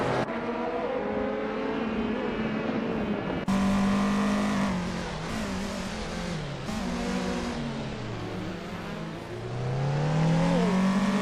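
Race cars roaring around a track in a video game, engines droning loudly and shifting pitch as they accelerate and pass, a continuous dense wash of motor noise with occasional tire squeal.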